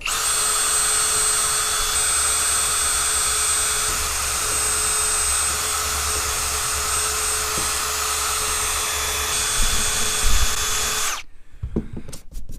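A power wheel grinds an aluminum boat hull down to shiny metal before brazing. The loud, steady whine runs close and unbroken for about eleven seconds, then cuts off, leaving light clatter.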